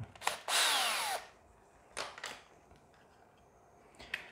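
A power tool loosening a bolt on a 24 V 120 Ah LiFePO4 lithium battery pack under assembly: a sharp whirring burst of close, loud drilling, then short quieter buzzes and clicks.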